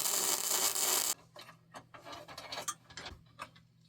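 A clamp spun by a bicycle crank in a garage, first a loud whirring rush for about a second, then a faint steady hum under a run of quick clicking ratchet-like ticks.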